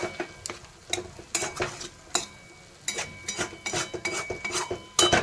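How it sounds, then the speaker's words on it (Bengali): Poppy seed paste being sautéed with onion greens and a little water in a pan, heard as repeated scraping and clinking strokes of a spatula over a faint sizzle, irregular and close, without speech. "একটু জল দিয়ে দিয়ে কষাবো"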